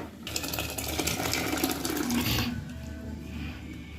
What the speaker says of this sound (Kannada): ಇದಕ್ಕೆ ಸ್ವಲ್ಪ ನೀರು ಹಾಕಿ